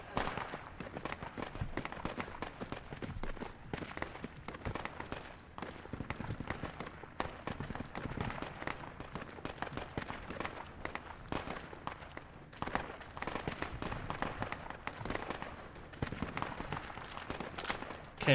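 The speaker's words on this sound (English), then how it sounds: "That grenade spam." Repeated grenade blasts and sharp cracks in the military shooter Project Reality, scattered bursts at moderate distance through a dense battle din, quiet overall.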